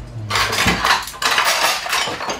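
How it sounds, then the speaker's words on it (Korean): Dishes, pots and cutlery clatter in a Korean home kitchen as a meal is cleared, a close, busy jumble of clinks and knocks with no voices. "그런데 식사를 마치자 설거지 채비를 하는 건 며느리 니콜라 씨가 아닌 시아버지다"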